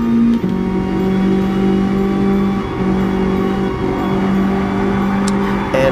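Toyota AE86 engine in Gran Turismo Sport, a steady loud drone held at high revs during a drift, with small pitch steps as the throttle shifts, close and continuous without talk.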